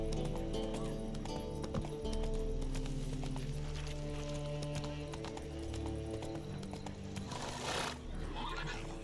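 Roach, the horse in The Witcher 3, trots with a steady, close clip-clop of hooves over game music and ambience, and a brief whinny can be heard near the end.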